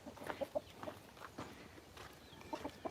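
Roosters and hens cluck and crow faintly in short bursts, a few sharp calls scattered over quiet outdoor background.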